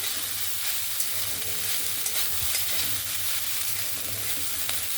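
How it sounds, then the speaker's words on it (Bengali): Poha, flattened rice mixed with lemon juice, is stirred in a hot pan with a steady sizzling hiss and soft scraping of the spoon, close and continuous. "লেবুর রসটা দিয়ে ভালো করে মিক্স করে নিয়েছি"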